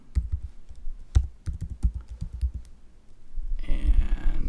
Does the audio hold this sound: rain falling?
no